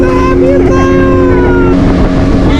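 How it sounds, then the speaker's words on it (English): A loud, steady motorboat engine drones close by on a river in the Brazilian Amazon, with a constant hum and wind buffeting. "it's like an hour and a half or 2 hours in a boat, and it's pretty loud, and Atlas doesn't stop talking"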